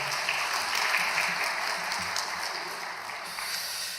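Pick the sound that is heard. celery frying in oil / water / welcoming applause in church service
welcoming applause in church service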